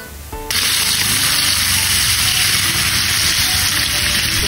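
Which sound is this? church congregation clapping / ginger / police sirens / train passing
ginger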